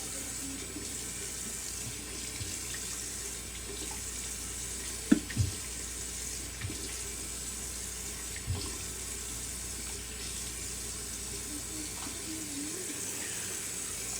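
Water runs steadily from a tap into a sink, with a few brief splashes and knocks as someone rinses.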